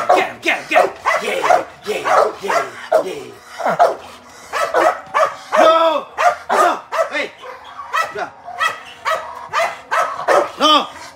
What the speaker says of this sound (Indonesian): Gonggong nih